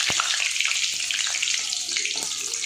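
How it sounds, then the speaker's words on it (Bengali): Whole cumin seeds and dried red chillies hit hot oil for tempering in a Bengali dried fish recipe, giving a steady close crackling sizzle with small pops throughout. "এইবারে দিয়ে দিব আমি গোটা জিরে, শুকনো লঙ্কা, ফোড়নে দিয়ে দিব শুকনো লঙ্কা।"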